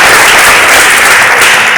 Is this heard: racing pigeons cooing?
no